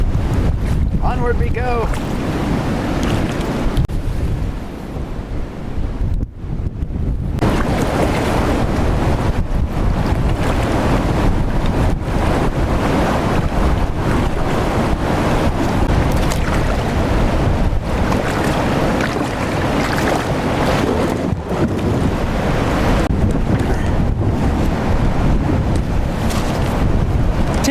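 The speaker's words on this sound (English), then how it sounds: "Wind!" Strong wind roars and buffets the microphone on a kayak trip down the West Nishnabotna river, loud and continuous with rushing gusts and splashing water, while a person speaks briefly over it.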